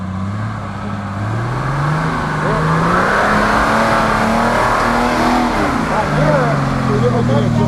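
A car engine idles and revs steadily, its pitch rising and falling through repeated throttle blips, close and loud, with people talking over it.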